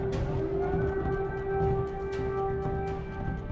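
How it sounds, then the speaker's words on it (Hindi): An air raid warning siren wails steadily over Kyiv after a Russian attack, a sustained tone sounding continuously across the whole stretch with a distant, reverberant quality. "रूस के हमले के बाद खतरे का सायरन बज रहा"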